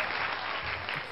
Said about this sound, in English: Some claps going on